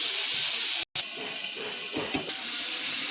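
Flat beans fry in a pan, making a dense, continuous hiss of sizzling oil that stays loud and steady close up, with a brief cut near the start and no talking.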